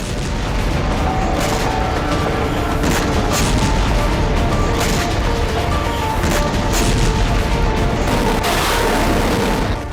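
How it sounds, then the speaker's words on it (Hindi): Heavy Russian rocket bombardment in Kupiansk during the war in Ukraine, heard as a dense, continuous roar of booms and rumbling blasts that keeps loud and steady for the whole stretch, with no voices. "कोपियांस्क में रूसी सेना ने रॉकेट से भीषण बमबारी की।"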